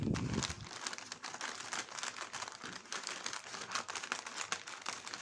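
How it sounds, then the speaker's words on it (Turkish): A plastic package of mini baguette bread is torn open and handled, giving continuous close crinkling and crackling of thin plastic for several seconds, without speech. "Beklemeden hemen ben paketi açacağım."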